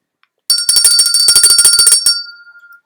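A school bell marking the end of lunchtime, a loud close electric ring with rapid rattling strokes that lasts about a second and a half and then fades out.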